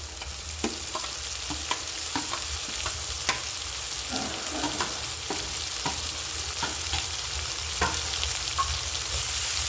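Sliced pointed gourd and onion fry together over high flame in a pan, a continuous loud sizzle punctuated by sharp clicks and scrapes of stirring.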